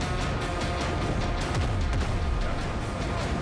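Cannons fire in the Windrose video game in a dense, continuous barrage of booms and crashes, loud and unbroken for several seconds.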